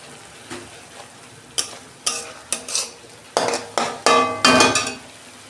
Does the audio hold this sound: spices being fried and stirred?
yes